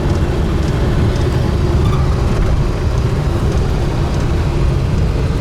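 An original 1948 Ford Super Deluxe rolls down the road, its engine and tires making a steady, loud low rumble heard from inside the cabin, with no talking.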